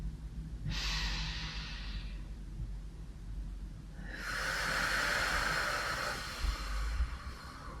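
Deep breathing during a mat Pilates exercise, a slow inhale followed by a longer, audible exhale, close and alone.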